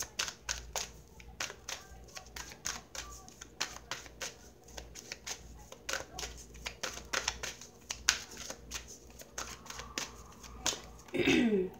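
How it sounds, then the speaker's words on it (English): Romance Angels oracle cards being shuffled by hand, a dense run of quick riffling slaps and flicks that keeps going nearly throughout, close and fairly loud, ending in a brief rustle of handling. "I'm going to pull a card from the Romance Angels for you to see what your advice is"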